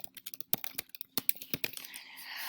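Rapid, close typing on a computer keyboard as a question is entered, with a dense run of light key clicks and a few harder taps, ending in a rise of soft hiss.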